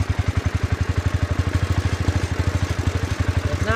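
A Wheel Horse C-81 garden tractor engine, not running its best, revs up close by in a fast, even chugging pulse that holds steady throughout.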